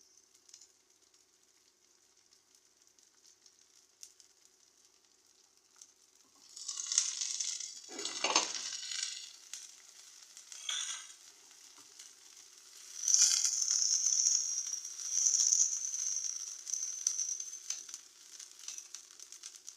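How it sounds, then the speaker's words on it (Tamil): Ground onion paste drops into shallow hot oil for a Chennai-style fish curry, the quiet pan first near silent, then bursting into loud hissing sizzles in a couple of surges that fade and flare again. "இதில் இப்போ நம்ம அரைச்சி வச்ச வெங்காயத்தை போடுவோம்"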